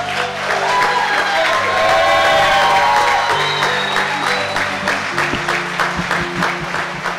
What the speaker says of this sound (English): could we get another applause